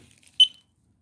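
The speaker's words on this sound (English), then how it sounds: "the beep was actually because the battery" A single short electronic beep from a counterfeit smoke detector, set off by its battery, sounds once at moderate level and then fades into silence.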